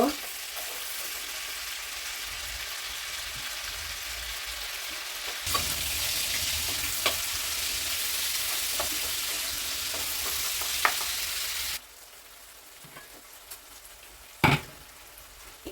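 Turkey mince browns in a pan with a continuous crackling sizzle, growing louder partway through, then dropping quieter with a few sharp clinks of a utensil near the end.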